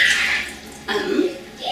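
Kombucha pours from a container into a plastic bowl in a home kitchen, a splashy liquid stream that shifts pitch partway through, close and fairly loud.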